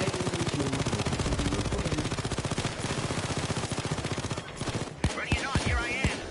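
Rapid automatic gunfire from a sentry turret in the Payday 2 heist game, a loud sustained stream of shots for about four seconds that breaks into a few scattered louder bursts, with faint voices underneath.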